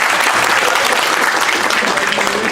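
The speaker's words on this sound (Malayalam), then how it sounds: "വെരി ഗുഡ്, കൈയടിച്ചു കൊടുക്കുക" Audience clapping steadily and loudly for a couple of seconds, a dense continuous burst of applause from a crowd at a talk.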